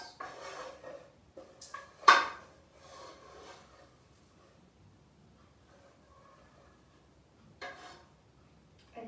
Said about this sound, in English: stirring the sweetened condensed milk in the butter until the butter melts